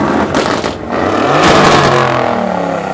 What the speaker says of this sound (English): But you, sir, decided to fit a one-off titanium exhaust to it.